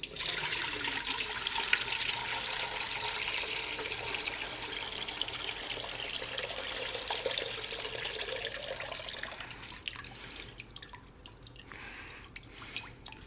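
Distilled water pours steadily into a container for making hot sauce, a continuous bright splashing trickle that gradually thins and fades toward the end, close and fairly quiet.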